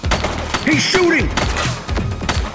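Gunfire in the police video game The Precinct: several sharp, loud bursts of shots ring out amid shouting voices and a busy game-action background.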